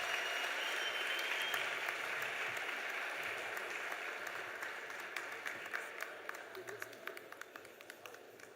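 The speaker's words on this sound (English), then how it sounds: "Can we please give her another round of applause, please?" Audience applause at a provincial education session with school governing bodies and principals, dense sustained clapping that gradually thins into more distinct individual claps toward the end, moderately distant.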